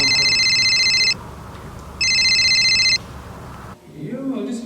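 An outgoing phone call rings through a handset: two long electronic ring bursts separated by a pause, loud and close, followed by a voice speaking at the end.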